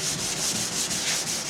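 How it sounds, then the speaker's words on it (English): Steady wet sanding of a boat's gel coat with 320-grit sandpaper under a light touch, a close continuous rubbing hiss with slow back-and-forth swells and no talking. "I'm using 320 right now with kind of a light touch, wet."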